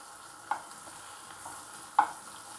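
Stuffed bitter gourds fry in a pan with a faint, low sizzle, broken by two sharper clinks or scrapes as they are stirred and turned, one near the start and one toward the end.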